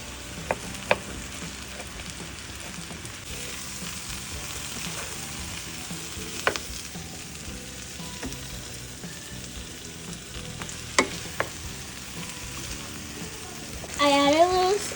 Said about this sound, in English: we're frying all of our veggies with our garlic oil